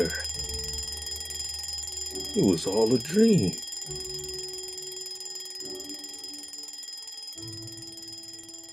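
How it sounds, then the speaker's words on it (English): A steady electronic alarm tone rings continuously in the background while a voice speaks briefly over it. "I would awake to the sound of my alarm clock blare"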